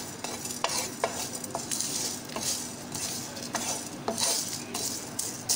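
Cumin, bay leaves and other whole spices dry-roasting in a preheated frying pan: a faint, steady hiss under a series of light, sharp clinks and scrapes as a utensil stirs them against the metal.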